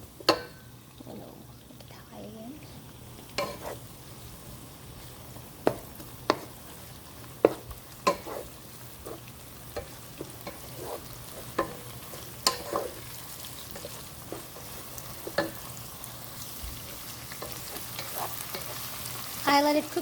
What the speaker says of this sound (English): Let the garlic, get the onion cook a little bit until it's translucent.